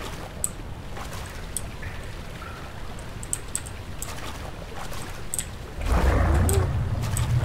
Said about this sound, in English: I make tons of noise everywhere I walk because of the water